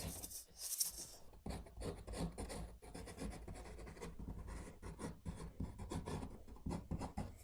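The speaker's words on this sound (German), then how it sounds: "Schieben wir jetzt einfach hier Leim drauf." Soft scraping and rubbing as wood glue is spread across a wooden lid for a DIY router fence, a close, intermittent rasp with short pauses between strokes.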